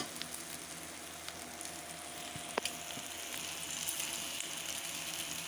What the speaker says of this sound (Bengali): এটাকে আমি একটু ভাজি করে নেব এখন